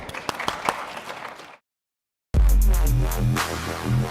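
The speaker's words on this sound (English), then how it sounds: "kind of one last round of applause for my panel" Clapping from a small audience at a mobile games industry panel in London, cut off by a short silence, then a fuller burst of applause with a low rumble, close and fairly loud.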